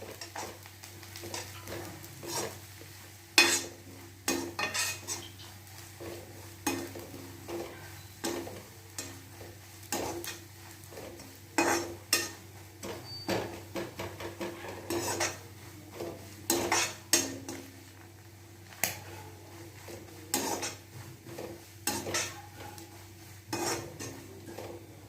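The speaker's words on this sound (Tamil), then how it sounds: "நல்லா இந்த தேங்காவை ரோஸ்ட் பண்ணிக்க போகிறேன் நான்" Grated coconut roasts dry in a pan while a spoon scrapes and taps the metal in repeated irregular strokes over a low steady hum.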